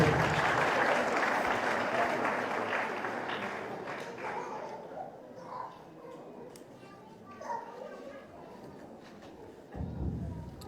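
Applause from a church congregation at a thanksgiving Mass in Saint Clare Parish, loud at first and gradually thinning, with children's voices and murmurs mixed in and a brief renewed burst near the end.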